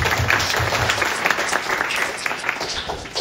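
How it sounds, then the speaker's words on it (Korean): An audience at a Christian conference in Korea gives a short, dense round of applause, loud and even throughout, with faint voices mixed in. "한번 박수 한번 주세요"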